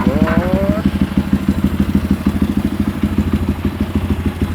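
A Honda GL 165 trail motorcycle fitted with an SND Racing exhaust idles with a loud, deep, lumpy pulsing beat, close up and steady. A brief voice sounds at the very start.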